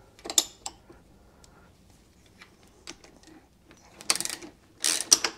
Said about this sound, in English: so we'll go ahead and use the puller